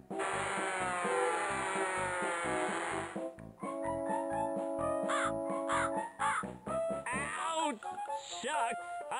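Crow cawing in the Candyland Adventures video game: repeated harsh caws over game music and sound effects, close and loud throughout, with some chirpy chatter mixed in.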